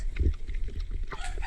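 A chicken clucks in a short burst close by, against low background noise.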